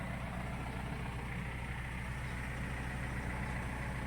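A tractor stuck in mud idles with a steady low rumble, a continuous, moderately quiet engine drone that holds unchanged throughout, with no talk.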